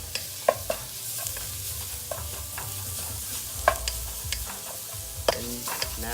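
Garlic and shallots sizzle and fry steadily in a pan, with a spatula stirring and scraping at intervals, producing sharp clinks and scrapes over the continuous crackle.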